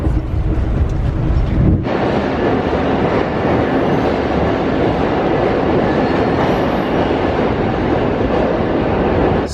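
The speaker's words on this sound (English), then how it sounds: "this same train is blasting down the Northeast Corridor" An Amtrak Cardinal passenger train roars down the Northeast Corridor at high speed, loud and continuous rumble with rhythmic wheel clatter, after a sudden shift in the noise early on.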